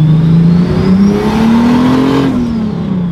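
A big-turbo BMW E34's engine revs up loud and close, the droning note rising steadily and then easing off a touch. A faint turbo whine rides over the engine.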